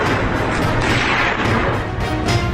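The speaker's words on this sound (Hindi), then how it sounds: "फिर निशाना साधता है और ताबड़तोड़ गोलियां चला देता है।" Loud, rapid bursts of gunfire crackle in a continuous, dense barrage, with a steady rolling pulse of shots throughout.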